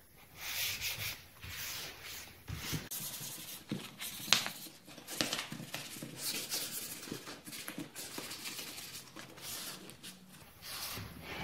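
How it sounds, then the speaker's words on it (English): Fine 4/0 steel wool pads rub back and forth over sealed wooden furniture being distressed, a soft dry scratching in irregular strokes with a couple of sharp scrapes, close and fairly quiet. "I'm going to use my steel wool pads. Those are 4/0 steel wool, the finest you can get"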